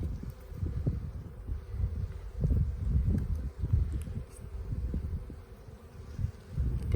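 Honey bees buzz steadily through an opened spring hive during an inspection, a continuous low drone with fluctuating intensity and light rustling, close and moderately loud.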